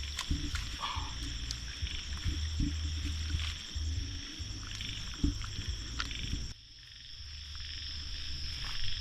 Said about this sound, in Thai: เสียงกบเสียงเคียดกำลังขึ้นละพอวันไกลจะค่ำแล้ว